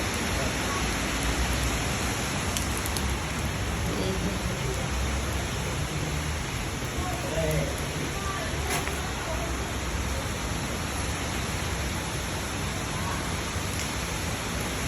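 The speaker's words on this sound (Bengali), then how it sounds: "এই যে কি পরিমাণের বৃষ্টি হচ্ছে" Heavy rain pours down in a steady, dense hiss that stays loud and unbroken throughout, with no other sound standing out above it.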